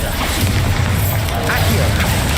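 A Bombarda blast goes off in Hogwarts Legacy combat, heavy low booming rumble amid constant loud game noise over a couple of seconds, with a voice talking over it.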